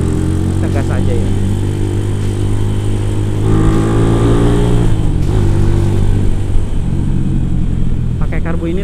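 Honda Tiger motorcycle fitted with a PWK 28 carburetor, its engine revving close and loud at high rpm with a steady, strong hum and rising and falling pitch sweeps.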